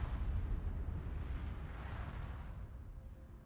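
A World of Warships high-explosive shell strikes an enemy ship, giving a deep, rumbling, sustained blast that roars loudly at first and slowly fades over a few seconds.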